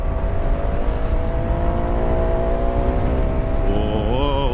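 A CF Moto 250SR motorcycle engine pulls hard in a steady, loud, close drone, its pitch rising and wavering near the end as it accelerates.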